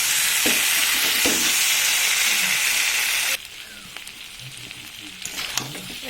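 Meat frying in oil in a home kitchen, cooked down until the oil separates, gives a dense, steady close sizzle for the first half that drops abruptly to a quieter crackle with faint stirring scrapes.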